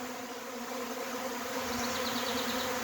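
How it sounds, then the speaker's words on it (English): A honeybee swarm moving into a hive makes a dense, continuous buzzing drone, steady and moderately loud, with no voices over it. "Swarm is moving into this hive."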